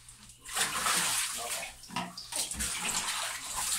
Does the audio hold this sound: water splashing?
yes